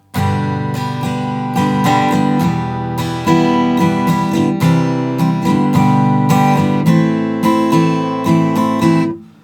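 An acoustic guitar strums the verse chords of a song continuously in a steady rhythm, full and loud, with no voices, ending abruptly.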